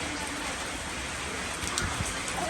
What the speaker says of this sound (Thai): เมื่อกี้เนี่ยฝนตก